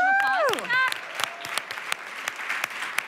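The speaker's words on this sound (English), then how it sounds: "Can we get another round of applause for that?" An audience at the 2019 MAKERS Conference breaks into sustained applause, a thick layer of many hands clapping that rises right after a brief spoken line and fills the rest.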